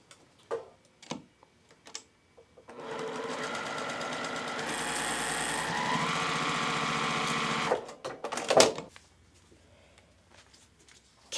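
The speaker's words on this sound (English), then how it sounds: "we're going to sew with a 1/4", and you're just going to continue this for your entire border" A sewing machine stitching a quilt border with a quarter-inch seam runs in a steady, fast mechanical rattle for about five seconds, framed by quiet handling clicks and rustles before and after.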